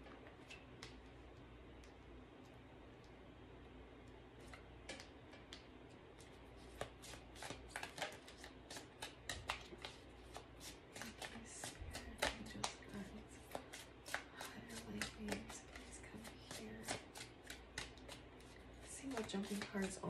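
Playing cards are shuffled with quick, crisp riffling clicks that come in bursts and grow louder and busier toward the end. A voice talks softly in the background.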